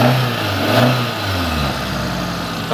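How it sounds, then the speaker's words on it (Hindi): A car engine runs steadily after starting, with a loud, continuous hum and slight rises in revs, heard close up with no talking. The car has a check engine light fault and a starting problem. "अब सेल मार के देखेंगे चालू हो रही है।"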